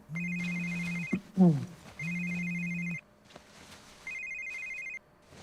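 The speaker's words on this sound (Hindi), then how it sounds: "भाई किसका फोन बज रहा है?" A mobile phone rings indoors in steady electronic tone bursts, three rings separated by short gaps, with a brief voice between the first and second rings.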